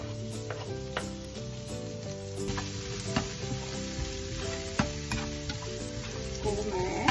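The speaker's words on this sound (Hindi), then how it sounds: "बटर में जो गार्लिक फ्राई होता है ना" Finely chopped garlic frying in butter on a tawa for a street-style burger, a steady close sizzle with scattered stirring clicks and taps and a faint tonal hum in the background.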